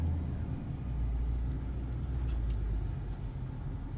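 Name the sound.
2016 Ford F-350 6.7 Powerstroke pulling away in drive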